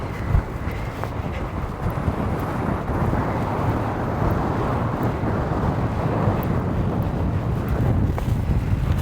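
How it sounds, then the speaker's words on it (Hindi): Strong wind roars and buffets the microphone on a narrow Alpine ridge, a loud, continuous low rumble with gusty swells across the whole stretch and no talk. "भाई इतनी तेज़ हवा आ रही है कि डर लग रहा है भाई उड़ ना जाए।"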